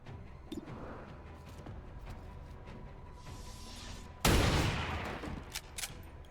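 Gunfire in the video game XCOM 2, a sudden loud burst of shots and crashing impact that fades over a couple of seconds after quieter game sounds.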